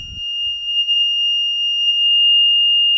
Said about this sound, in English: And now the high level alarm.